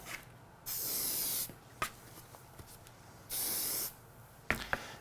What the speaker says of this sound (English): So I'm going to spray the edges first.